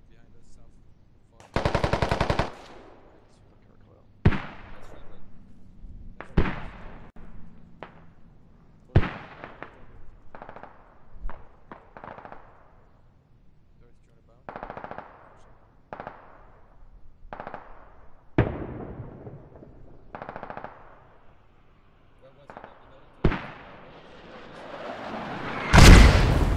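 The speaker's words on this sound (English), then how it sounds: "Command is dropping mortars, guys." Mortar shells and small-arms fire in the military shooter game Squad, scattered sharp blasts and bursts spaced several seconds apart over a quiet background, with one heavy close explosion at the end.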